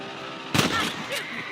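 A single sharp gunshot from a rifle while hunting rabbits in Red Dead Redemption, loud and close, followed by a shorter second report with a trailing echo.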